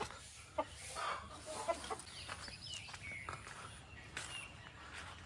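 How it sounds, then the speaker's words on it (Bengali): Many hens in a backyard coop, clucking and murmuring at middle distance in scattered bursts, with a few sharper calls and faint shuffling movement around them. "এটা মুরগির ঘর। আমার মা মুরগি পুষতে হেবি ভালোবাসে, তো এখানে অনেক মুরগি রয়েছে।"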